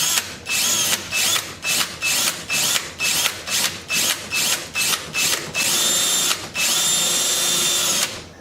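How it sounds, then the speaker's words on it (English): Power drill driving self-tapping screws into a Polaris Ranger part, heard as a close, loud series of short whirring bursts in a steady rhythm, ending in one longer run. "I think I'm just going to put these self-tapping screws in here"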